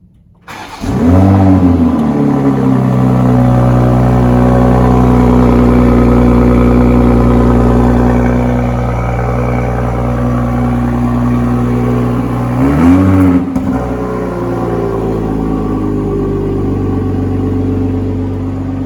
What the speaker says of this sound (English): we're gonna give you a cold start of the Toyota 2020 Supra